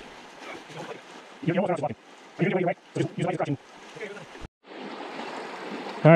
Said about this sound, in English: We did not expect a river crossing.